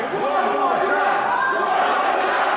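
A wrestling crowd chanting at a match between Minoru Suzuki and Mike Skyros, a loud massed voice rising and falling in rhythmic waves, filling the arena.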